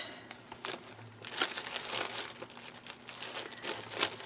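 Plastic packaging around double folded bias tape crinkles as it is handled, close and fairly quiet, in irregular bursts of crackling with brief pauses between and no talking.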